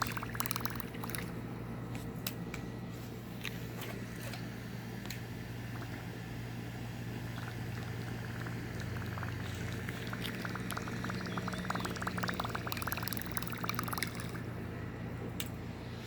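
A topwater fishing lure retrieved across water makes continuous splashy gurgling and sputtering, an outdoor churning noise that runs steadily for several seconds without talk.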